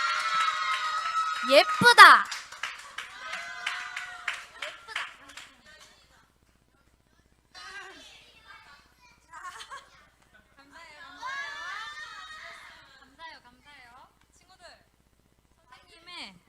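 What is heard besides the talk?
children clapping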